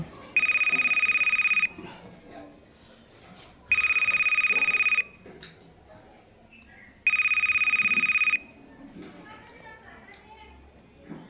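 A telephone rings three times in long, evenly spaced electronic bursts, with faint voices and household noise in the gaps.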